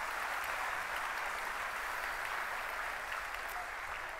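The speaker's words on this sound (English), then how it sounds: "give them a round of applause" An audience at an evening church celebration gives a round of applause, a steady, dense wash of clapping that holds evenly throughout and tapers slightly near the end.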